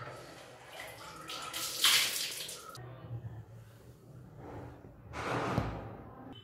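Water splashes and pours over a person taking a cold bath, with two loud gushing bursts separated by a quieter stretch of gasps and movement.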